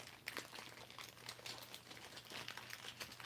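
A plastic bag crinkles softly and continuously as a plate for a model building block is worked out of it, faint, close and without speech.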